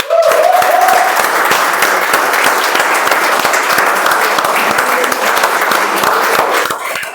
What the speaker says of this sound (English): a huge round of applause for the winners in the house